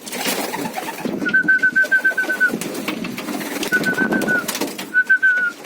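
Moulting pigeons coo in soft, throaty rhythmic bursts nearby, mixed with rustling and fluttering, while a high steady whistle-like tone comes and goes.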